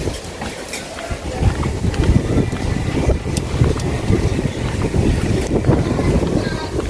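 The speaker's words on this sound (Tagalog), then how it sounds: "Lakas ng hangin." Strong wind buffets the microphone in loud, gusty low roars during an outdoor walk in Cavite under a dark sky, the rumble swelling and dipping continuously.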